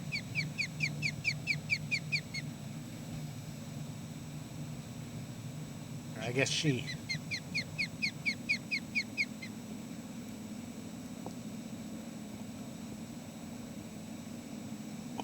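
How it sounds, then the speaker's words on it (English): An osprey near its nest with chicks gives rapid series of sharp, whistled chirps in repeated bursts, fairly close, with a brief louder squeal midway and a short spoken phrase over steady wind and water noise. "Osprey here. He's making noises at me."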